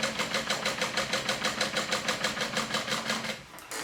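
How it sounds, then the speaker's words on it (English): A sewing machine runs steadily, top stitching a vinyl seam with a fast, even rhythmic chatter close by, slowing and stopping near the end. "I'm going to do 2 rows of top stitching, 1 on each side, and 1/8 of an inch away from each side"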